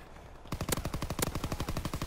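Rapid automatic gunfire from a Call of Duty WW2 match, a steady close burst of evenly spaced shots starting after a brief quiet lead-in and running to the end, loud and unbroken.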